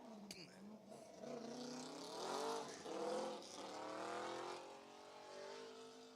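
Corvette race car weaving through a slalom at a hill-climb event, engine heard from a distance rising and falling as it changes direction, tires faintly squealing, with a commentator's voice over the top.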